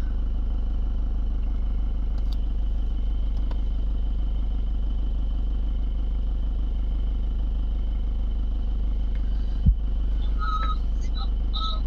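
A vehicle's engine idles on a dark road through a tiger reserve, giving a steady low hum with faint clatter and one brief thump near the end.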